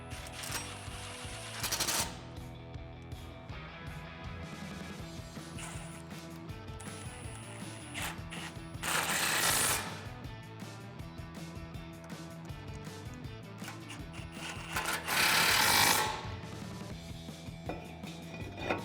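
A ratchet with a factory 8mm socket drives the brake dust shield bolts back in on a 2009-2013 Ford F150 during a suspension lift job. A few short bursts of clicking rise above steady background music.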